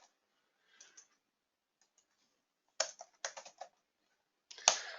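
Keys clatter on a computer keyboard in short bursts, a few scattered taps early, then a quick cluster of loud clicks and a final sharp strike, close and clear with silence in between.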